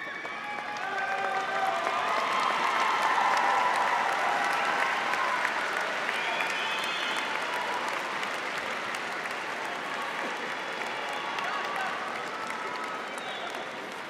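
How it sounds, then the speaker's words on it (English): Graduates applauding family and friends at a university fall commencement ceremony, a large crowd's long, thick clapping filling the hall, loudest early then holding steady with faint cheers mixed in. "give a big warm applause to all the family and friends"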